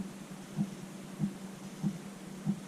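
Faint, low ticking from a diesel heater fuel pump mounted underneath a motorhome, four soft evenly spaced pulses over a steady background hum.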